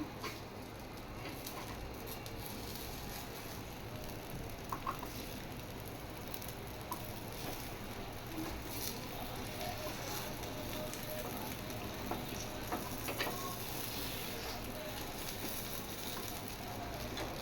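Ponganalu (paniyaram) batter cooks in a pan with a soft, continuous crackling sizzle and scattered small pops, heard quietly throughout.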